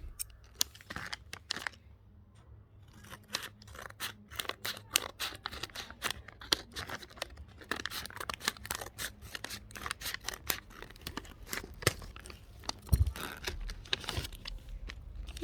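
Rapid crinkly snipping and rustling while a homemade fidget toy package is cut open, busy clicks and crackles running close and fairly steady throughout, with a sharper knock near the end.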